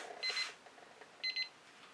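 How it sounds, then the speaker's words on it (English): A digital timer alarm goes off with two short bursts of rapid high-pitched beeps, close and clear with quiet between. "At least my timer's working this time."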